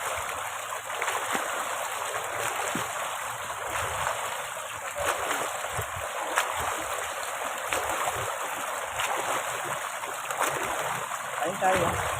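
Water churns and splashes steadily across a flooded road beside rice paddies, a continuous rushing wash with soft voices under it.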